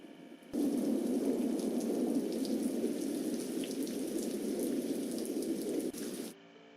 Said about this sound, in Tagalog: Kasabay ang pagbuhos ng malakas na ulan.